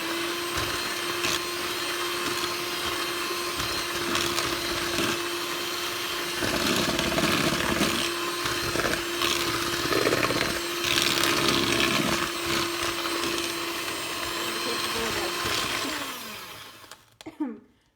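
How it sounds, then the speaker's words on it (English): A kitchen blender on low speed mixes gluten-free vegan chocolate cake batter, a loud steady motor whir with a slight rise in the middle, running for about seventeen seconds before winding down and stopping at the end. "you're gonna blend it for 2 minutes on low"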